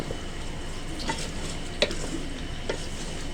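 Spoon stirring spices and Deggi chilli into mutton for biryani in a pot, a steady soft scraping and sizzling texture with a few light clinks of the utensil, close and continuous.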